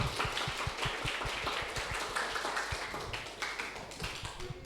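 Audience at a teamwork training session in a school hall clapping hands, a steady scattered patter of claps with a low background hum, moderately distant and continuous throughout.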